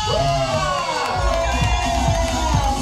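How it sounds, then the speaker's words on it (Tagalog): A crowd at an outdoor vloggers' appreciation day cheers and shouts for Diwata, a loud continuous roar of voices with whoops over a busy, music-filled background. "Come on people, mag-Hiyawan for Diwata!"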